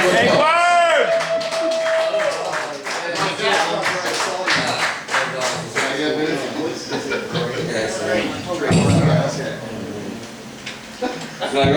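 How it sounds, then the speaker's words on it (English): A live audience claps and cheers for a performer called up on stage, dense, loud clapping with shouts and voices mixed in, close and continuous throughout. "Give him a round of applause."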